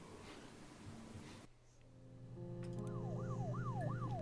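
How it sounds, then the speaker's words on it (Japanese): An ambulance siren in the video game Her Story comes in after a sudden cut and rises to a moderate level, its up-and-down wail rolling repeatedly over a low engine drone. "うわ、救急車になってる。"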